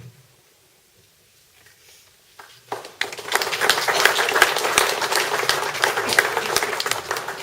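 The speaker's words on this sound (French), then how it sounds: "Ça valait la peine d'applaudir à chaque fois" Audience applause breaks out after a French poem reading about the 1914–18 war, sustained dense clapping rising from near silence and holding steady, fairly close and loud.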